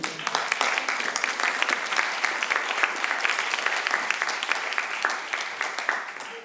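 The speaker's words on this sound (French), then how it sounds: "Ces applaudissements aussi pour vous accueillir." A live audience applauds to welcome a speaker at a Paris talk on greening school courtyards, steady close clapping lasting several seconds with a faint murmur underneath.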